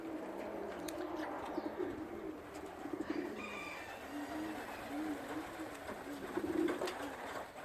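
Young, inexperienced racing pigeons coo softly in repeated low rolling phrases, with a few faint chirps over quiet outdoor background.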